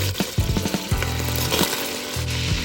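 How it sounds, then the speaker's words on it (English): Butter foaming and sizzling in a pot as the base for a roux, with a steady close crackle and a few light metallic clinks. "wait for the butter to start foaming before adding 1 part flour"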